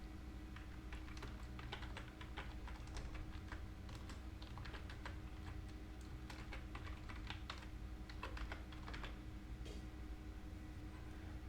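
Rapid keystrokes on a computer keyboard come in quick irregular bursts with short pauses while a plugin search is typed, quiet and close over a faint steady hum.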